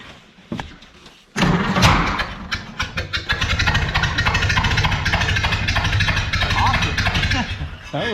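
On a car engine, the exhaust blows off with a sharp bang after a quiet stretch, and the engine then runs loud and rough with a steady, thumping throb.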